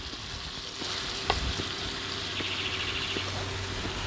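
A butter and plain-flour roux being whisked in a pan for a cheesy white sauce, a soft continuous sizzle with a few light taps and scrapes, close and even, with no voices.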